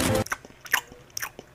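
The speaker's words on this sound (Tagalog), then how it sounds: "basta isang kagat lang ah" A sharp crunchy bite into food in a Filipino animated cartoon, one loud crunch followed by a few softer chewing crackles in an otherwise quiet scene.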